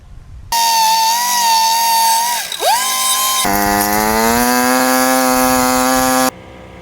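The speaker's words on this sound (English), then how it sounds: "I just use this little angle die grinder with a sanding pad on it" A small angle die grinder with a sanding pad whines loudly up close, dipping briefly under load while cleaning up aluminum tube fenders, then spinning back up to a steady high-pitched whir before cutting off.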